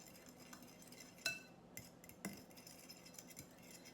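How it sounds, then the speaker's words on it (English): A fork whisks an egg and milk mixture in a bowl, with soft faint stirring and a couple of sharp clinks of metal against the bowl, quiet and close. "take our fork and whisk the egg and milk mixture together"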